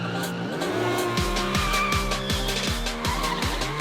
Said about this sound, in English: The aim is to make circles on the road by screeching tires.